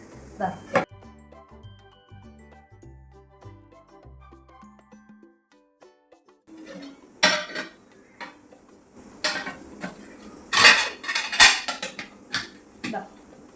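Small serving dishes and utensils for a new home clink and clatter in sharp, scattered bursts as they are handled, following a stretch of quiet background music with a voice talking.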